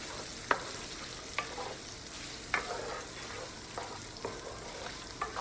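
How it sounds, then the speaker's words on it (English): Smoked sausage seasoned with Italian seasoning sautés in a pan, a steady soft sizzle broken by several sharp scraping clicks as it is stirred every second or so, without any talk. "And we're just going to saute these sausages for a little while."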